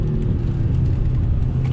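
2020 Jaguar F-Type Checkered Flag Edition with a 4-cylinder turbocharged engine, heard as a steady loud low engine rumble under acceleration, close and continuous without clear gear changes, with no voices.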